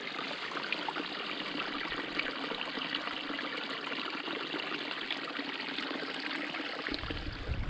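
A small trickling stream at the source of the River Barle on open moorland near Pinkery Pond, a steady close babble of running water with no talking.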